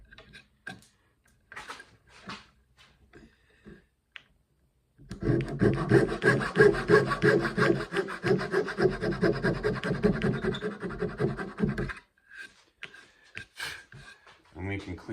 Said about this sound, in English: Take a saw and get them, cut these off pretty close without scarring or scraping the surface